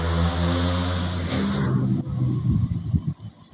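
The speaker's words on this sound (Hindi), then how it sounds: "ये बाइक वाले जो हैं वो इतना ज़्यादा साउंड" Motorbikes roar past in the background, a loud engine drone with revving that swells and fades over a few seconds, with no talking over it.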